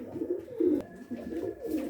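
Several soft, throaty coos from tumbler pigeons repeat in close succession, near and fairly quiet, with a faint high tone in the background.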